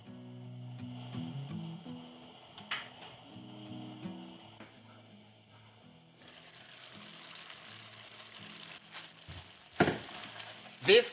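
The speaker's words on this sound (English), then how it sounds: "Stir and cook this until the beef is cooked through and all the vegetables are softened." Beef and vegetable stuffing for stuffed peppers cooks in a pot with a soft sizzle and bubbling, a few scrapes of stirring and a couple of sharp knocks near the end.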